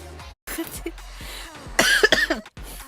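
A girl coughing close up, a few sharp harsh coughs in a short burst with brief pauses between them.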